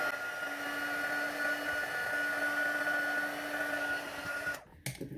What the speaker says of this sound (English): I'm just going to heat this with my heat tool, and you just want to heat it until it just starts to melt.